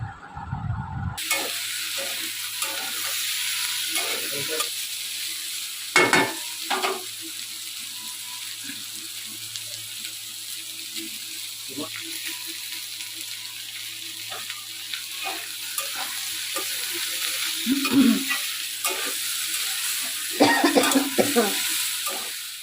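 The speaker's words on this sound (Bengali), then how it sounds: "নিয়ে ভালো করে আবারও কিছুটা সময় ভাজবো এই চিচিঙ্গেটা" Ridge gourd being stir-fried with fried prawns and onion in a pan, a steady sizzle with scraping stirs and occasional louder clatters of the spatula, heard alone without talk.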